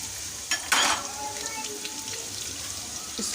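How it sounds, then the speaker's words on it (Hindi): Onions dropped into a cup of hot ghee burst into a loud sizzle that settles into a steady close frying hiss, with stirring sounds. "ये 1 कप हमने घी लिया, इसको हमने गरम कर लिया। अब इसमें हम प्याज डाल देंगे।"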